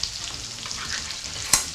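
Peppers fry for shakshuka in a pan, a steady close sizzle with light stirring scrapes and one sharper clack of a utensil.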